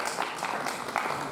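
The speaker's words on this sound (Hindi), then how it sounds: "तो चाहूँगा कि ताली बजाएं।" Audience applause at a Hindi kavi sammelan poetry event, a short burst of scattered hand clapping from a seated crowd, moderately loud and steady, with no voice over it.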